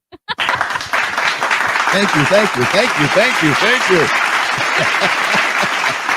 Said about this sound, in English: I need some claps, people.